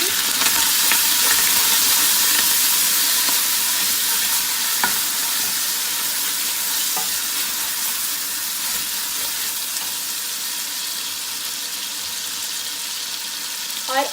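Tomatoes hit hot oil in a pan for dhaba-style chana dal, setting off a loud, steady sizzle and hiss with occasional stirring scrapes throughout.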